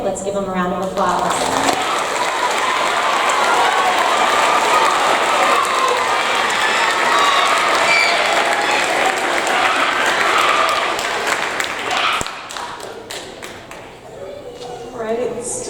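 A school audience at a sixth grade awards ceremony applauds the students, dense sustained clapping for about twelve seconds that then thins out to scattered claps.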